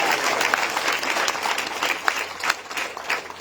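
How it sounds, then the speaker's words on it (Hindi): An audience applauds continuously, with dense, even clapping from a crowd in a hall filling the whole stretch at a fairly loud level. "तो उन सब के लिए तालियां हो जाए जिन्होंने संविधान से।"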